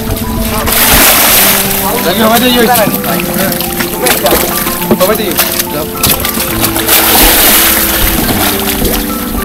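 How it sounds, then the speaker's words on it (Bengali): A trawler on the water of Tanguar Haor wetland in Bangladesh, heard as a steady engine rumble with water splashing along the hull, while people talk nearby throughout. "গোসল শেষে আমরা আবার ট্রলারে চলে এসেছি,"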